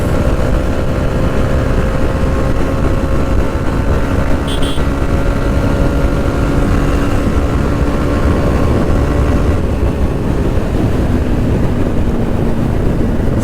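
A 4B motorcycle cruises at speed on a highway, its engine holding a constant loud drone under heavy wind rush, with no letup for the whole stretch.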